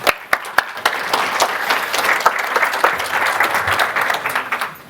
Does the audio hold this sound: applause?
yes